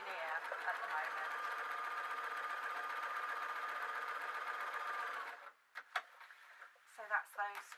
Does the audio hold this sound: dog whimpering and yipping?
no